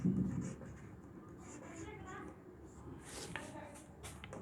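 Pen or marker scratching on a board or paper while writing out a maths formula for solving quadratic equations, soft scratchy strokes under a teacher's continuous talk.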